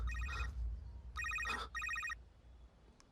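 A telephone rings in a dubbed South Indian film scene, with three bursts of an electronic trilling bell separated by short gaps, then quieter room tone with a faint click.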